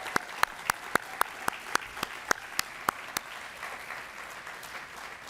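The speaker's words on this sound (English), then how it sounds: "So how about a warm applause for Anna Pushkin-Shevlin?" An audience at a climate and community summit claps in a sparse burst of about a dozen distinct claps. The clapping is moderately quiet, fades after a few seconds and leaves soft room noise.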